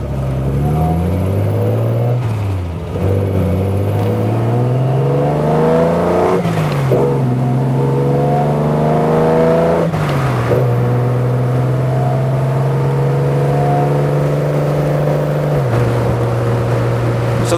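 A Triumph TR6 with triple Dellorto carburettors and K&N filters revs hard and accelerates through the gears on a fast road run, its engine note climbing, dropping at each shift and holding a loud, steady drone.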